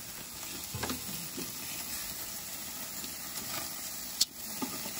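Meat cooking over moderate heat on a cabin BBQ grill, a low continuous sizzle and hiss with scattered pops and one sharp clack near the end, with no talk.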